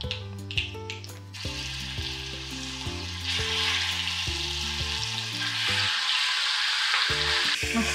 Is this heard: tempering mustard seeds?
yes